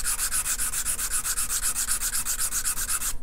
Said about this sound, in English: we're going to sand this